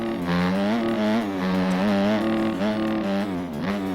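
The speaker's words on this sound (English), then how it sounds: "right here, we're just full throttle, pinned, no problem at all" A 250cc dirt bike engine held at full throttle, pinned wide open on a motocross track, producing a loud, steady, high-pitched buzzing drone that stays close and continuous throughout.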